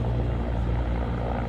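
Continuous low rumbling drone of a helicopter flying overhead in the mountains during a camping and ridge-traverse hike, steady and fairly distant with no voices.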